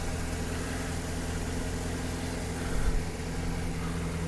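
A 2009 Chevrolet Silverado idling smoothly after new spark plugs and wires, a steady, even low rumble with a constant hum, close by and unbroken, with no voices.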